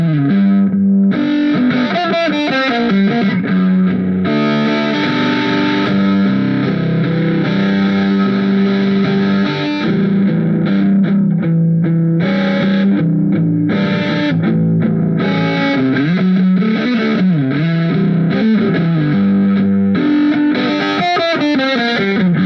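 Electric guitar played through a Positive Grid Spark 40 amp on its highest-gain setting with no reverb, loud and heavily distorted, with chugging chords and riffs running continuously and alone.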